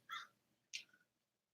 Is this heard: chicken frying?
no